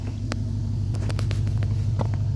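A 2016 Mercedes-Benz S550 with a muffler delete rumbles steadily at idle, a deep, loud low drone with a few brief clicks and taps on top.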